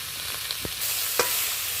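Chopped carrots, onion, green chili and cucumber stirred together in a pan, a faint hiss of frying with a couple of short scraping strokes, close and quiet.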